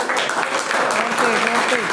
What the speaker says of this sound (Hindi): पहले ताली बजा दो जोर से